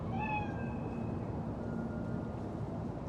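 A cat meows in the Cyberpunk 2077 video game, a few drawn-out calls near the start over a steady background ambience.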